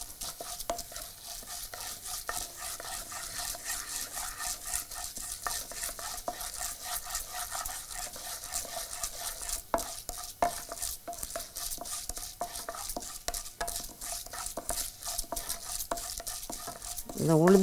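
Urad dal stir-fried in a pan, a long run of dry scraping and stirring strokes with a faint sizzle and occasional clinks of the spoon against the pan, steady and close.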